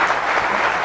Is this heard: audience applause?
yes